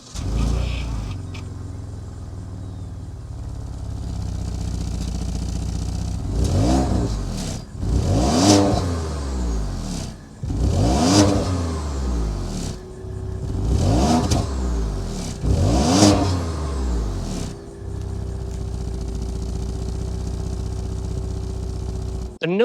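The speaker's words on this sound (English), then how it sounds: "start it up so we can hear that exhaust note" A 2022 Ford Edge ST twin-turbo V6 idles, then revs repeatedly, about five sharp throttle blips rising and falling, with a deep exhaust rumble close up between them.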